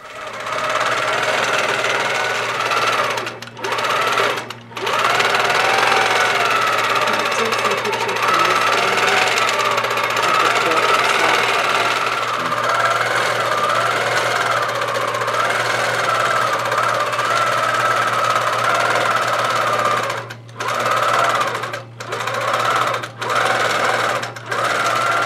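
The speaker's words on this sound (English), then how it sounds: "let's go see how a long arm quilting machine operates" A long arm quilting machine runs continuously at close range, a loud, fast rhythmic stitching clatter with a steady hum, stopping briefly a few times before starting again.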